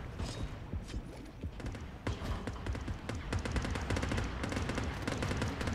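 Rapid gunfire aimed at sharks in the underwater game Depth, a fast, dense rattle of shots that runs continuously at moderate loudness.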